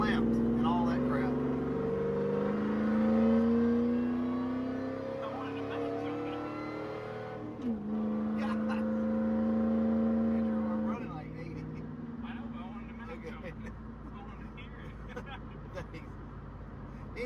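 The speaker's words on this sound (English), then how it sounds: "you can hear the supercharger a little better now" Ford SVT Lightning pickup with supercharger, long-tube headers and Magnaflow exhaust idling and revving nearby, a low droning engine tone rising and falling in pitch, with someone talking over it.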